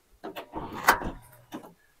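A Toyota Hiace van door shuts with its soft-close closer, a sliding, mechanical movement ending in a firmer thunk near the middle, then a short quieter latch click. Close and moderately loud, with no talking.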